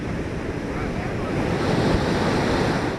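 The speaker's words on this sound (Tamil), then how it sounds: "மறுபுறம் நேர் எதிராக அலைகள் ஆக்ரோஷமாக ஊருக்குள் பாய்கிறது." Sea waves surge and crash loudly along the Tiruchendur shore, a dense continuous roar of surf mixed with wind buffeting the microphone, steady and close throughout.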